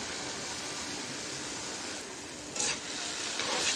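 Chopped potato sautéing in a pan with garlic paste, salt, chili powder, turmeric, coriander powder and green chilies, a loud continuous close sizzle with stirring scrapes swelling near the end.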